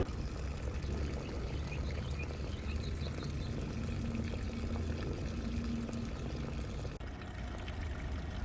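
A Harbor Freight battery-operated liquid transfer pump drains water, giving a steady, fairly loud whirring rush of liquid flow with a continuous motor drone throughout and a brief dip near the end.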